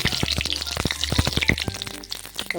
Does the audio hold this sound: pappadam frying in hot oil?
yes